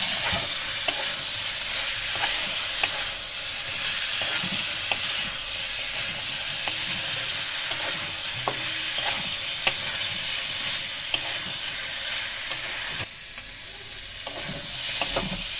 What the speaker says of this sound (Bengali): এই দেখেন সুন্দর করে কষে নিচ্ছে